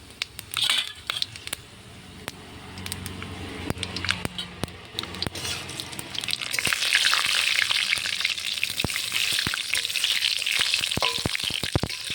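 Panch phoron five-spice seeds dropped into hot oil for an olive pickle: scattered crackling pops at first, then the sizzle swells into a dense, steady hiss over the second half, with no voices.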